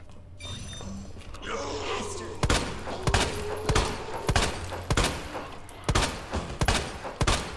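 Gunshots at a zombie in the survival horror game Resident Evil 2, with a steady run of sharp, fairly loud shots about two per second over low background ambience.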